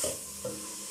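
Shrimp pasta ingredients with ginger stirred in a hot frying pan, a steady close sizzle with a scrape of the spoon, no talk.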